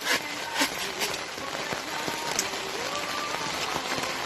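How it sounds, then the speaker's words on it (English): Steady heavy rain hisses across a campsite with a tarp, with occasional louder drops and faint background sounds. "It's raining heavily."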